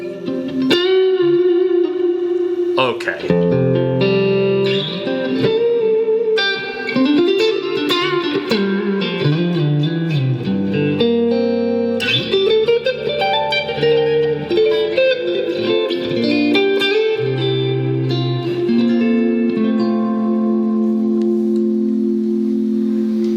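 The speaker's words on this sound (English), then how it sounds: "That's pretty good reverb." An electric guitar plays through a large reverb patch on a Quad Cortex effects unit, chords and single notes ringing out with long, washy tails that blur into each other, loud and close, with a brief spoken word.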